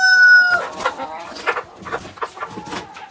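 A Marans rooster crows loudly nearby, the call trailing off into assorted clucking and scratchy farmyard noises.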